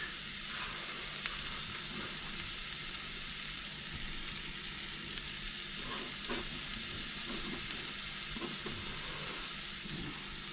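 Chopped bacon fries in a pan, a continuous loud sizzle and crackle with occasional stirring scrapes, heard alone without voices.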